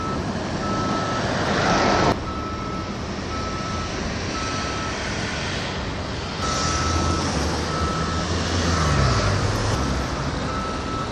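Tractor units reverse and manoeuvre beside parked trucks at a port, reversing alarms beeping steadily over a loud, continuous diesel engine rumble, with a heavier vehicle pass building near the end.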